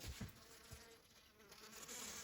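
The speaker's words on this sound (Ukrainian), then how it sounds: "бо я чую, що бзичить, думаю, де воно бзичить" Honeybees buzzing nearby around paper traps, a fluctuating droning hum that swells and fades as insects move around, with no talking.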